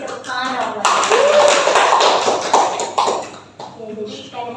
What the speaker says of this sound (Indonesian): Kasih tepuk tangan dong buat